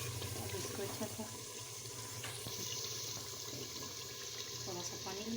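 Water pours steadily into a pan of chickpea masala with turmeric and salt, a continuous close splashing and trickling flow with faint clinks in the background.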